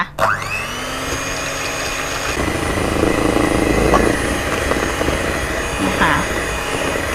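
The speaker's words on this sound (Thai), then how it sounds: "ทยอยใส่ไปด้วยแล้วก็ตีไปด้วยนะคะ ไม่ต้องหยุดเครื่องตี" An electric mixer whips egg whites with sugar for a cake, its motor whining at a loud, continuous pitch with slight wavering, and faint talk underneath.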